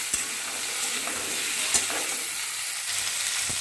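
Potatoes fry in a pan with a steady, loud, dense sizzle that runs throughout, broken by a few sharp knocks of a utensil stirring them, close up and with no one talking.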